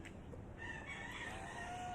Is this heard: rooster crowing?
yes